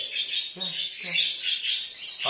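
Baby birds chirp and squawk while being hand fed, a run of high, close, insistent calls coming in short bursts, with a voice briefly heard among them.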